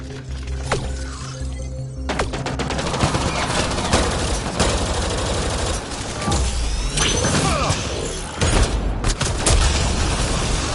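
Gunfire and combat in the Mass Effect video game: loud bursts of shots, booms and crashing impacts pile up over a mechanical hum, with short lulls between the volleys.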